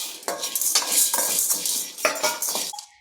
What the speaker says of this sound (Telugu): దీన్ని కూడా ఇందులో వేసుకొని వేయించుకోండి.